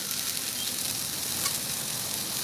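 Onion, three cloves of garlic and half an inch of ginger sautéing in hot oil, a dense close hissing sizzle that holds steady and unbroken for a couple of seconds, no voices.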